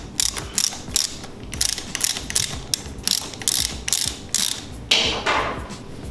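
A hand ratchet clicks rapidly in repeated bursts while loosening a 10mm nut on the brake lever of a 2019 Kawasaki ZX10R, close and crisp, with short pauses between strokes.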